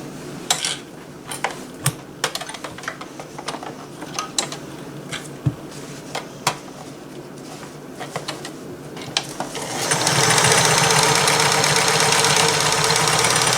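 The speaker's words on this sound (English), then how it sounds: "But I just wanted you to hear it a little bit and see how good it sews." Vintage Sears Kenmore 158 10401 mini sewing machine stitching fabric scraps, with scattered mechanical clicks and knocks, then a loud steady whirring run of the motor and needle toward the end; no voices.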